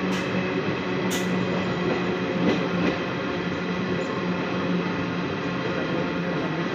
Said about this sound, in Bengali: অবশেষে ট্রেন ছেড়ে দিল 5 মিনিট পরে। রাজস্থান কোটা জাংশন ছেড়ে যাচ্ছি।